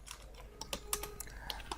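Quick, irregular keystrokes on a computer keyboard while PHP code is written, a steady patter of clicks with a few sharper taps, close and fairly quiet with no talking.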